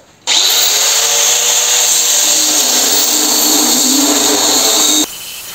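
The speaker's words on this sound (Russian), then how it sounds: "И начинаю шлифовать." A loud, steady high-pitched grinding whine of an abrasive disc grinding a front axle beam, running continuously for about five seconds, starting abruptly and cutting off near the end.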